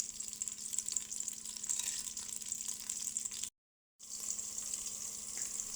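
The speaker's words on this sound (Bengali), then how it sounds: "পেঁয়াজটাকে ভেজে এখন দিয়ে দিব তেজপাতা দারচিনি এলাচ, এগুলো ভেজে নিব পেঁয়াজের সাথে।" Onion fries in oil with bay leaf, cinnamon and cardamom for a beef curry, giving a soft, steady sizzle and crackle that cuts out for a brief half-second gap before resuming.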